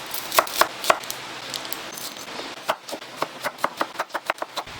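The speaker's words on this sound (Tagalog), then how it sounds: "Red onion yung gagamitin ko para mas makulay." Red onion being chopped with a knife for a nacho salad, a few separate knife strikes early on, then a steady run of crisp, close chops on a board with no talking.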